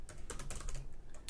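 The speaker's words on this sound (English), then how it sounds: "maybe I should be typing it out like" Computer keyboard clatters with quick, uneven keystrokes in short bursts, close and fairly quiet, with no voice over it.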